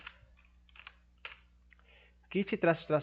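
Someone types a command into PowerShell on a computer keyboard: a few light, scattered key clicks over about two seconds, then a voice starts speaking close by.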